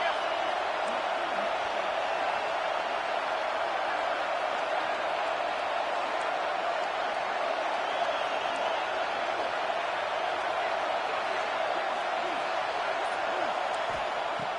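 NCAA football stadium crowd roaring in a continuous dense wash of cheering noise during a red zone defensive stand, loud and unbroken, with a commentator's voice over it.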